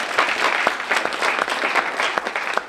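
An audience at a book award ceremony claps steadily for a dean, a continuous round of dense applause with some sharper individual claps standing out.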